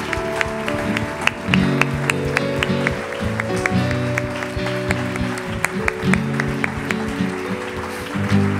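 A church congregation claps during a worship service, the applause mixing with sustained organ or keyboard music and scattered crowd voices, steady and fairly loud for several seconds.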